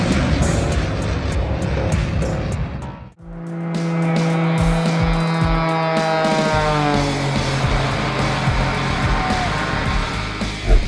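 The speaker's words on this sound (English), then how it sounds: "This is what acceleration to transonic speed looks like" An aircraft roars past while accelerating toward transonic speed, a loud broadband engine rush that cuts out briefly, then returns with rising, sweeping whine tones and a strong low rumble.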